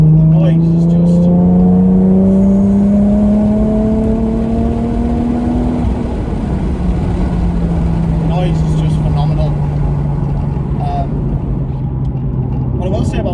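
A Nissan 370Z pulls hard through a long fifth gear, its engine note rising steadily and loud from inside the cabin, with road and wind roar underneath and a brief voice near the end.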